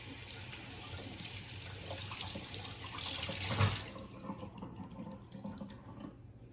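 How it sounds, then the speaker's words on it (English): A kitchen tap runs steadily into a sink while Costco lamb chops are rinsed, the water hissing close by, swelling briefly and then thinning to drips and splashes near the end. "So you're going to want to wash this lamb chops first."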